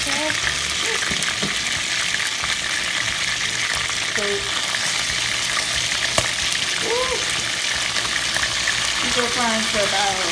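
Chicken pieces fry in hot oil in a pan for curry chicken, with a constant loud sizzle and crackle and occasional stirring scrapes, close up. A faint voice is heard in places.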